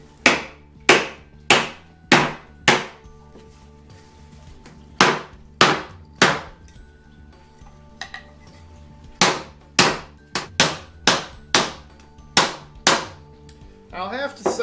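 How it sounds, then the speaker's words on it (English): A hammer strikes a 2x4 laid over chicken on a cutting board, landing about twenty sharp, loud, close blows in quick bursts of three to five, with short pauses between the groups. "whack the devil out of it with a hammer"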